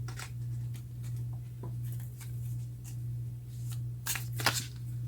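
Tarot cards being shuffled in soft repeated riffles and flutters, with a few louder crisp bursts near the end, over a steady low mains hum.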